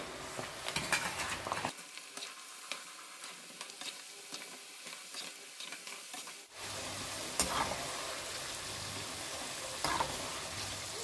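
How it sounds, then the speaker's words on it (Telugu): Oil sizzles and crackles in a pan as a spice tempering fries for tomato pickle, with stirring scrapes; the sizzle drops away briefly in the middle, then returns. "బాగా పోపు మంచి కలర్ వచ్చే వరకు వేగనీయాలి."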